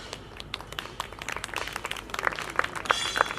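Scattered, uneven clapping from a conference audience, starting sparse and thickening slightly, with several sharp close hand claps standing out over a thin background of the crowd.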